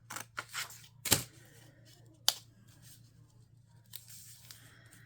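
A junk mail envelope being torn by hand, two sharp close rips standing out from a quiet room with a few soft paper rustles and handling sounds around them.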